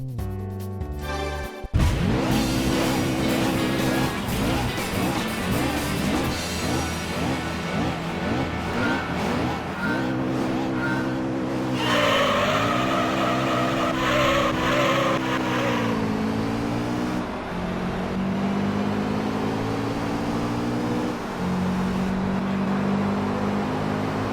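A Honda NSX Type R race car engine in Gran Turismo 3: A-Spec during an amateur MR challenge race, revving hard and continuously with repeated rising sweeps through gear shifts and a brief whine mid-race.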